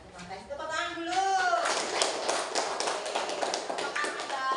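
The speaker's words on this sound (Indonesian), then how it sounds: "Tepuk tangan dulu." A third-grade primary school class claps together as a group, a busy, dense patter of many small hands. A teacher's voice comes just before it and the clapping carries on to the end.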